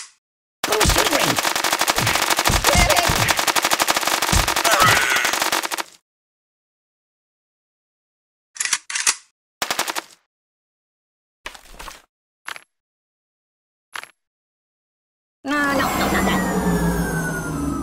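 Sustained machine gun fire in the Kick The Buddy video game rattles loudly for about five seconds, followed by silence, scattered short bursts and impacts, then another dense stretch of rapid fire.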